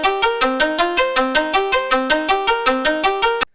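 A synth arpeggio sample plays solo, a steady stream of bright plucked notes stepping up and down in a fast, even rhythm, clear and close with no other sounds.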